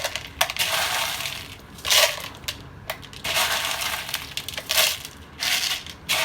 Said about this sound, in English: Now, take your semi-hydro container, put some leca on the bottom.